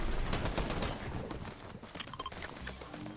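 An enemy team sprays rapid gunfire in a video game, a dense stream of loud, close shots that thins out into scattered cracks toward the end.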